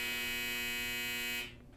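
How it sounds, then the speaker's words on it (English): A clothes dryer's end-of-cycle buzzer sounds as one steady, loud electronic tone with a humming edge, held for over a second before cutting off abruptly into quiet room noise. "my dryer was going off."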